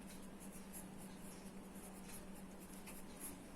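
Marker or chalk writing on a classroom board during a physics lesson on connecting cells in series: a steady scratching stroke sound with short squeaky accents, close and continuous, no talk.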